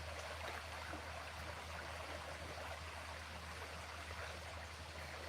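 A flooded river in major flood runs high and fast, giving a steady, dense wash of rushing water with a low rumble, continuous and unchanging, with no voices over it.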